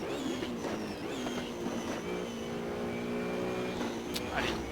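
Race car engines in Assetto Corsa on the Spa circuit whine and shift pitch in repeated gear-change sweeps as a McLaren passes, the tones layering and rising throughout.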